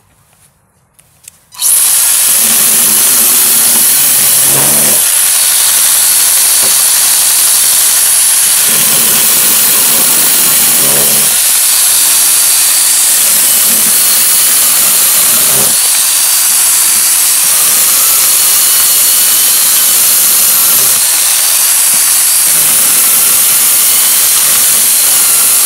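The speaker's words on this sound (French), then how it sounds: "je vais passer à la mini tronçonneuse. Donc pour le moment je fais encore avec la Parkside." A Parkside mini chainsaw cuts branches in a permaculture forest garden, its loud, close, high buzzing whine starting abruptly and running nearly nonstop, with short dips between cuts.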